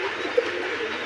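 Domestic pigeons at a large pigeon farm in Rajshahi coo softly over a steady background hum, with one brief louder coo standing out.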